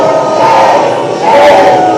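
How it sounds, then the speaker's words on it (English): A loud crowd booing in a sustained, dense roar with a swell toward the end, heard as a stand-alone sound effect with no talk over it. "Let's give him a huge round of boos and shame."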